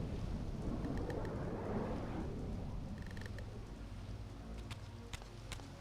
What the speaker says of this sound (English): But everything's now stormy and dark and raining.